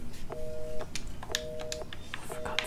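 Touch-tone telephone dialing in Resident Evil 7, three short electronic beeps evenly spaced with faint room noise in between, quiet and alone.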